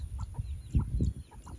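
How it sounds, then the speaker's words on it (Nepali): A red rooster clucks close by in a village, giving a string of short, rhythmic clucks with no talk over them. "रातो भाले कुवाक कुवाक भने यही हो"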